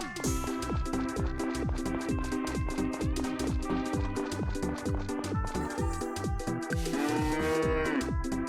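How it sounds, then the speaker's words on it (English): A cow moo sound effect from the farming video game Story of Seasons: Friends of Mineral Town plays over busy, rhythmic game audio, with a drawn-out, wavering lowing call rising clearly near the end. "I'm sure that's like a new cow sound effect"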